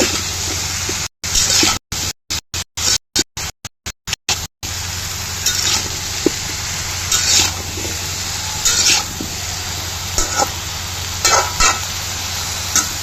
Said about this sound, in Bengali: এই যে সুন্দর করে উল্টে পাল্টে নেড়ে ছেড়ে হালকা একটু কষিয়ে তারপর পানি দিব ইনশাল্লাহ